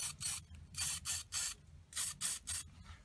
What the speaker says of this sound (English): So I'm going to finish spraying these